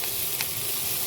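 Papaya pieces frying in a pan, a dense continuous sizzle with a faint stirring scrape, close and even in level.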